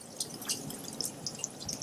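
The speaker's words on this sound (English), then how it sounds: "So cool water, and I'm just going to take my thumb, kind of go around the lemon." Cool tap water runs over a lemon as it is rubbed by hand with a thumb, giving a faint, steady trickle broken by scattered soft drips and splashes, quiet and close, with no talking.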